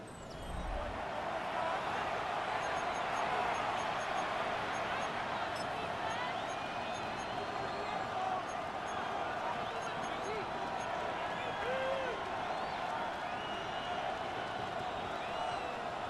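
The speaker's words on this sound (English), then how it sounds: "The crowd making their presence felt." A stadium crowd in an EA Sports NFL playoff video game roars in a thick, steady wall of noise, constant and fairly loud throughout, with a commentator's voice faintly beneath it.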